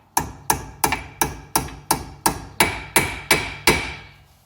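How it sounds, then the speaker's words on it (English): Eleven sharp metallic small-hammer taps on a brake pad pin of a 2016 Mustang GT's front Brembo brakes, at a steady, slightly quickening pace, each ringing briefly, close and clear with no talking. "And then just take your small hammer."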